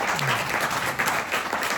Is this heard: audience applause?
yes